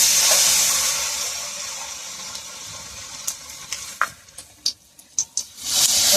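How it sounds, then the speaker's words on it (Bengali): Oil heating in a small, hot kadai while making Bengali chicken pakora: a steady close sizzling hiss, then sharper crackles and stirring scrapes toward the end. "কড়াইটা গরম হয়ে গেছে, তেল দিয়ে দিলাম"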